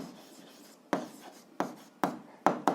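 A pen writes an answer by hand on paper for a seventh-grade algebra exercise, with several short, distinct scratching strokes in an irregular rhythm, close and clear, and no talking.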